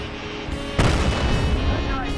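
A tank cannon fires a single heavy boom in World of Tanks on the Sand River map, a sudden loud blast that rolls out into a lingering rumble over steady engine drone.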